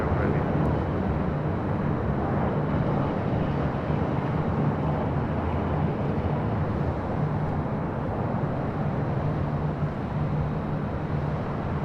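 Steady broadband jet roar from an Asiana heavy airliner landing on runway 24 left at LAX, loud and constant throughout with wind noise on the microphone and no voices.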